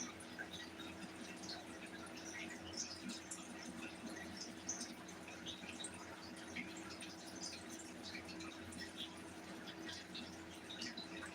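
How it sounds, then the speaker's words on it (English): Small water fountain running in a turtle tank, a faint, steady trickle and bubbling with tiny drips throughout, low and continuous in a quiet room. "You just hear my water fountain going. It's just giving my turtle cleaner water."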